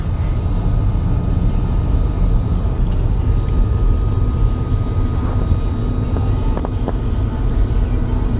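A car's air conditioning compressor runs as a steady, loud broadband hum with a constant drone, holding even throughout with no voices.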